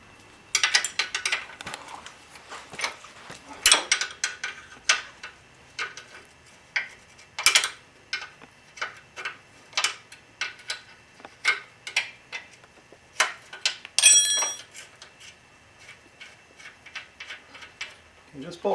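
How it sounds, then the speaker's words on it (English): Wrench working a nut off a motorcycle swing arm bolt, bursts of quick metallic ratcheting clicks in an uneven rhythm, close and clear, with a person talking in between. "So once we get this nut off, take this bolt out."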